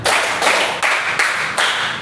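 Classroom clapping game, with a group of students clapping hands together in four sharp, evenly spaced bursts, loud and close, no talk between them.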